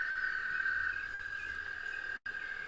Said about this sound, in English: I love hearing the toads. I get all happy when I go out and start finding toad choruses that I can listen to.